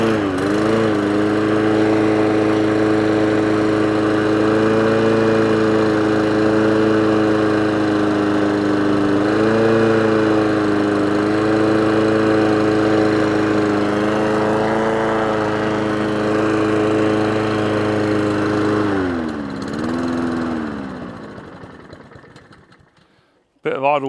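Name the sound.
lawn mower engine running at idle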